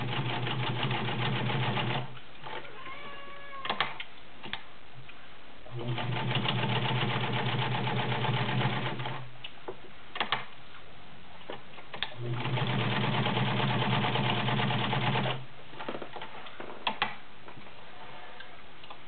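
Vintage Kenmore model 1318 sewing machine stitching through a couple of layers of leather, running in steady bursts of rapid mechanical ticking with short pauses between, close and clear.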